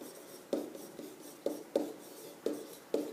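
Pen or pencil writing out a trigonometry mnemonic on paper, heard as a series of short scratchy strokes with quick taps and pauses between them, close and fairly quiet, with no voices.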